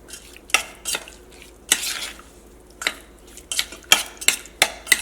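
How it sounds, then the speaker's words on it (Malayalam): Chicken pieces being mixed with flour, cornflour and egg in a bowl, a series of about a dozen irregular wet slaps and clinks from a spoon or hand striking the bowl, close and alone. "ഇതെല്ലാം കൂടിയിട്ട് നമുക്ക് നന്നായിട്ടൊന്ന് മിക്സ് ചെയ്യാം"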